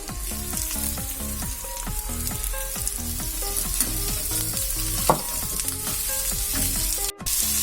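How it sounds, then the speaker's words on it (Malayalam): Carrot and capsicum sizzle and fry steadily in a hot pan for a chicken taco filling, with repeated scraping stir strokes of a utensil against the pan and no talking. "നമുക്കിതിലേക്ക് ക്യാരറ്റും ക്യാപ്സിക്കും ഒക്കെ ഇട്ട് കൊടുക്കാം കേട്ടോ"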